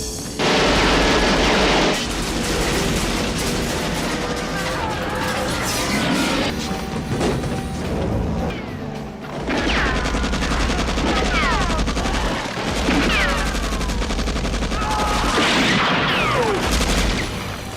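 A VFC AKS74U gas blowback airsoft rifle fires in loud, sharp rapid bursts of clattering reports, with brief pauses between strings of shots.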